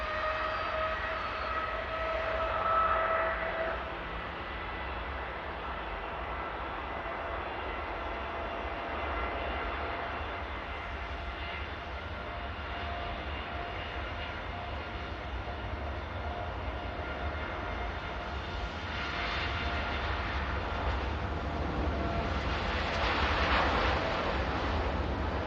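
Boeing 787 Dreamliner at Manchester Airport, its jet engines giving a long, steady distant roar that swells slightly near the end, with no voices over it.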